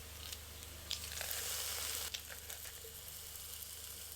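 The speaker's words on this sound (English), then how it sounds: "turn your heat to low and add 4 minced cloves of garlic" Minced garlic sautéing in oil in a pan over low heat gives a soft, steady sizzle with a few brief stirring scrapes, quiet and without talking.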